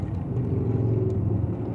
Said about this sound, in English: Oh, that's a nasty looking truck that just got like smashed up.